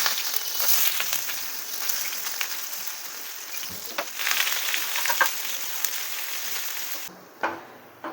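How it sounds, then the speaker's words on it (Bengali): Sliced onions sizzle and fry in very hot oil, turning crisp for birista for a Dhakai katla fish dish; a steady dense crackle runs throughout with occasional stirring, easing off near the end. "এবার আমরা এর মধ্যে পেঁয়াজগুলোকে ভেজে নেব"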